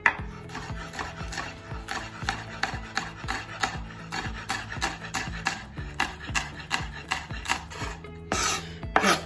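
A knife chops strips of chili pepper on a board in a fast, steady rhythm of close, crisp taps, about twenty strokes with a short pause near the end.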